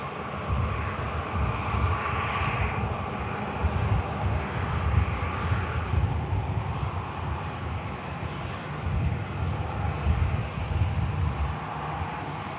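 An airliner on final approach into Manchester Airport gives a steady, fairly loud broadband engine roar that holds across the whole stretch, swelling slightly in places, with a light whine on top and no voices.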